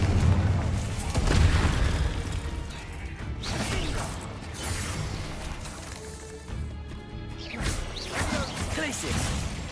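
Fiery spell blasts and clashing combat effects in the game Hogwarts Legacy: repeated booming bursts and crackling mechanical impacts layered over continuous loud action noise, with a voice speaking over it.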